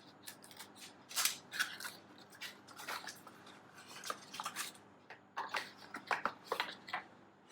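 Sealed package for a wall-mounted device being cut and torn open, a close series of crisp snips, crinkles and rustles in irregular bursts, quiet and without talk.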